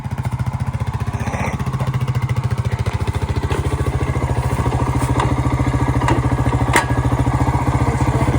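An old ATV engine runs close and loud in a steady rapid idle throb, with small clunks and clatters from shifting into reverse; no talk is heard over the engine.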